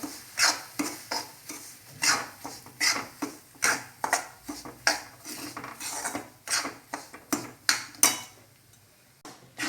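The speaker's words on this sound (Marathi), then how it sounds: "आता मी हे ह्याच्यामध्ये रवा टाकते आहे तूप गरम झालेलं आहे आता याला छान गुलाबी रंग येईस भाजून घेऊया" Semolina roasting in hot ghee in a pan, stirred with a spoon in a quick repeated rhythm of scraping, clinking strokes over a faint sizzle, close and without talk.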